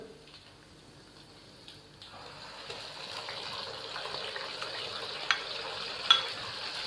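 Quiet sizzling that suddenly grows louder and fuller as chopped tomatoes drop into a hot pan, then keeps hissing steadily with a few small pops and clicks.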